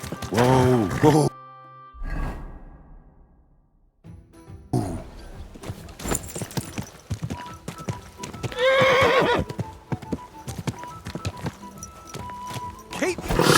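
In the video game Kingdom Come: Deliverance II, a horse whinnies loudly, then its hooves clop along in a quick rhythm, and it gives another shrill neigh partway through.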